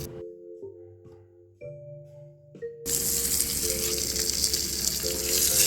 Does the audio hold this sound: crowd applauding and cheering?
no